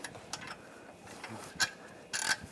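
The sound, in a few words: bolt being removed from the catalytic converter clamp of a Chevrolet Trax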